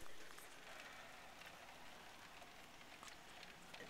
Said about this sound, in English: It's probably gonna rain for another 15 minutes or something